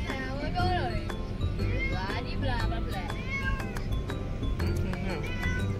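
A pet cat meows repeatedly in a home, with several drawn-out, wavering calls close by while people talk over and between them.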